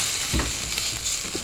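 Nasi goreng (fried rice) being stirred in a hot pan, a steady close sizzle and fry with soft scraping pulses from the stirring utensil, continuous throughout with no talking.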